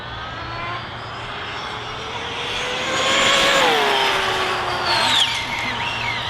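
An ARRMA Limitless RC speed car with a Hobbywing motor makes a high-speed pass, its rising whine swelling and peaking near the middle and then easing off with a brief higher squeal, all over steady outdoor noise.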